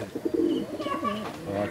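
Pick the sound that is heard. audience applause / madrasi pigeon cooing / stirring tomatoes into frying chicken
madrasi pigeon cooing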